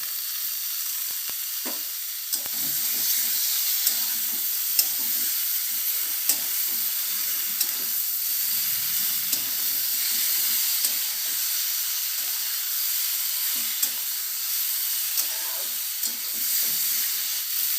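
Potato and cauliflower curry with turmeric, tomato and green chili frying in a pan, a steady close sizzle with occasional soft stirring clicks and no talk.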